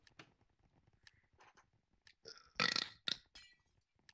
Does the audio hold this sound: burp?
yes